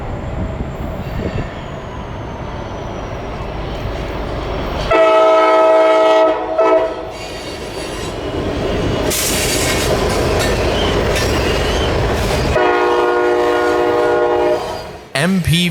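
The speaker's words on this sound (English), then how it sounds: "had a train coming my way 20 minutes later" A freight train led by CSX 1186, an MP-15DC locomotive, rumbles steadily nearer, sounding long horn blasts twice, the low rolling noise building before cutting off.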